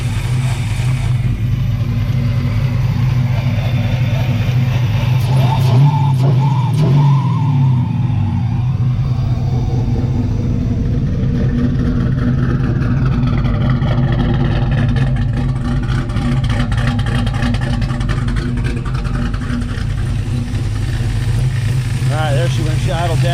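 Car engine running loudly and continuously up close, settling toward a steadier idle, with someone talking over the engine noise.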